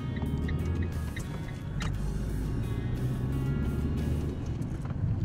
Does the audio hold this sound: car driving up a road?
yes